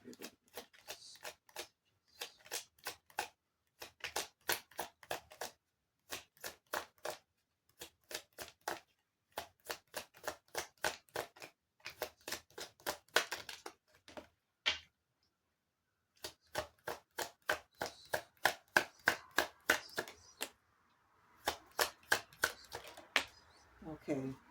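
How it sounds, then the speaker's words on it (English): Tarot cards are shuffled and riffled by hand in repeated bursts of quick crisp flicks, each run lasting a second or two, separated by short pauses and close to the mic. "selecting just random cards here"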